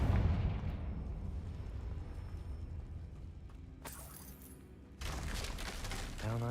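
A Confringo spell cast in the game Hogwarts Legacy: a loud, booming fiery blast opens the clip and rumbles on as debris clatters and crashes down, with another bright crackling burst near the end.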